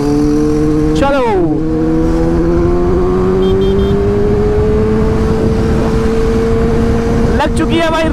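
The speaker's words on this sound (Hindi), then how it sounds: "लग चुकी है भाई रेस न्यू 390 ड्यूक के साथ।" A new KTM 390 Duke motorcycle races on a highway, its engine droning loud and steady with sharp revving bursts near the start and end, under heavy wind noise.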